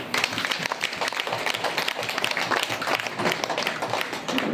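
Audience gathered for Patriji's Amritotsavam celebration at Sri Manjunatha Pyramid clapping together, a dense, even patter of many hands sustained throughout at moderate loudness.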